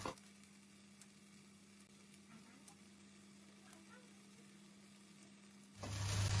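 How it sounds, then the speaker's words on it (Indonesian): Spices with asam kandis sautéing in a pan for a green chili beef dish, a faint steady sizzle throughout, with a steady hum underneath and a louder burst of noise at the very end. "Sama asam kandis kita tumis sampai dia wangi, sampai matang semua."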